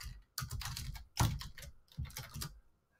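Keys clatter on a computer keyboard in two quick bursts of typing, close and fairly quiet, with a brief pause between them and no talking.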